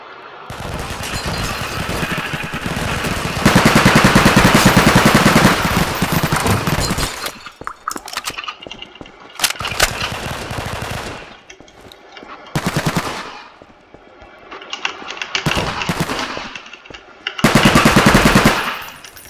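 Heavy gunfire in a tactical shooter game as suspects are shot during a raid: long loud bursts of automatic fire, broken by short pauses and then renewed, close and dominant throughout.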